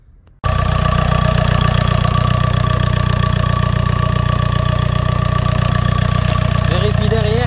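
A VAG TDI diesel car engine cranks and catches abruptly, then settles into a loud, steady, close idle with a rattling clatter that runs without a break.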